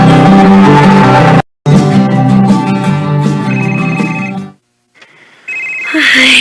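A mobile phone rings with an incoming call, its ringtone melody playing loud and steady, cutting off briefly, then resuming before a short gap and a final higher chime.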